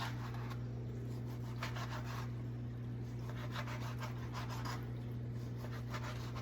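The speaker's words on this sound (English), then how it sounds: "you gotta cut the bacon. I like doing these thin strips" A sharp knife slicing stacked bacon into thin strips on a board gives soft, repeated rubbing and scraping strokes in short bursts, close and fairly quiet, over a steady low hum, with no talking.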